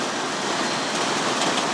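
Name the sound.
rain falling on a van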